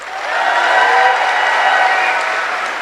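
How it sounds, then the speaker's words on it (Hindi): A hall audience claps for a mentor in sustained, dense applause that swells and holds for a few seconds, loud and without talk over it. "मैं चाहूंगी इससे ज्यादा जोर से ताली बजा सकते हैं आप मेरे मेंटर के लिए"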